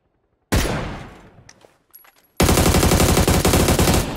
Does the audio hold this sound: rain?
no